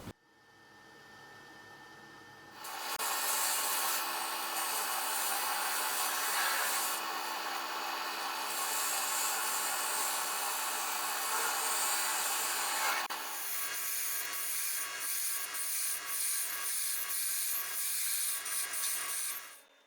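Maple gavel handle end being worked down to a smaller diameter, with a steady, close, loud rasping and rubbing of wood that runs almost continuously and turns choppier and more pulsed in its final stretch.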